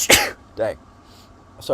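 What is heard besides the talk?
person sneezing during live stream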